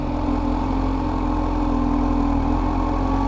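Kawasaki motorcycle engine running at low revs during a slow U-turn, a loud, steady, close rumble with no break and no talking.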